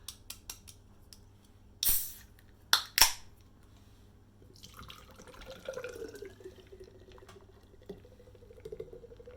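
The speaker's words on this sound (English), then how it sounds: "considering we've got to give it an aggressive pour, we'll just get some agitation going before we do that" Wayward Brewing Midnight Barley Cowboy, a hopped nitro porter, poured hard from a can into a pint glass: a few sharp clicks and taps, then a steady foaming gush and trickle, close and fairly quiet.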